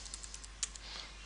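Quiet, quick keystrokes on a computer keyboard tap in an uneven rhythm, with one sharper click standing out among the faint, close taps.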